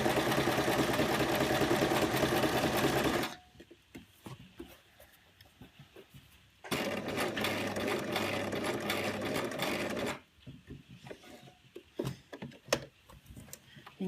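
A sewing machine stitches a sensory maze cuff in two steady, fast-running bursts of about three seconds each, separated by quiet pauses with faint clicks and handling noises.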